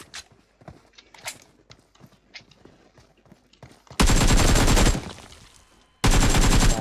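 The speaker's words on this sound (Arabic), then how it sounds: "خمس طلقات." Gunfire in the video game PUBG Mobile on the Gameloop emulator: soft footstep-like clicks first, then two loud, dense bursts of rapid shots, about a second each.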